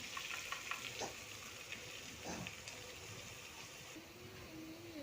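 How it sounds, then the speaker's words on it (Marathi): A homemade masala of red chilli powder, salt and coriander powder frying in oil, a soft steady sizzle with faint stirring clicks, fairly quiet, and a brief voice near the end. "चला आता मसाला फ्राय करून घेते तेलामध्ये"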